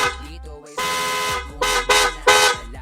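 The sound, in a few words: Pia Original loud vehicle horn test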